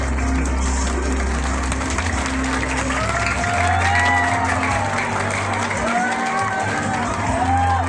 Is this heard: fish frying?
no